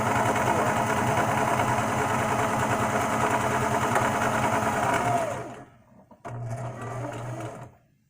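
A sewing machine hums steadily as it stitches, running at an even pace, briefly stopping, then starting again for a short burst before cutting off.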